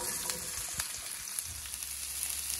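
Cauliflower pieces frying in hot oil with chili powder, a dense continuous sizzle with a few soft stirring bumps, close and steady, no talking.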